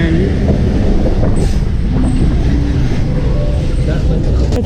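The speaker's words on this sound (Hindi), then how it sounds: "ट्रेन हमारी चल पड़ी है" A train pulls away from a railway station, its low rumbling and rattling carriages filling the scene while a voice talks over it and a faint high squeal rises briefly.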